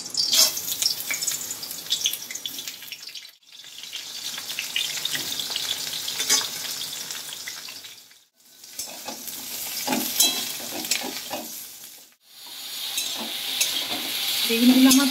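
Eggplant pieces sizzle and fry in a hot pan while being stirred, a steady close sizzle with scraping stir strokes, broken by a few short pauses and swelling louder near the end; no one speaks.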